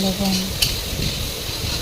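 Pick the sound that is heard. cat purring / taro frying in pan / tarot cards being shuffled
taro frying in pan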